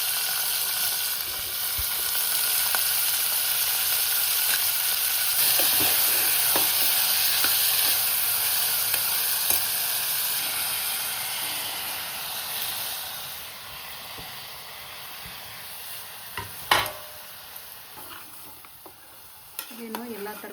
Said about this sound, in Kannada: ಇದೇನು ಎಲ್ಲ ತರಕಾರಿನ ಹಾಕಿ ಚೆನ್ನಾಗಿ ಫ್ರೈ ಮಾಡಬೇಕು.